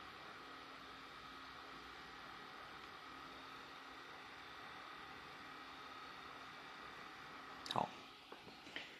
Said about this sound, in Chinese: 可以听到 CPU 的声音有一点不顺畅， 有一点点摩擦到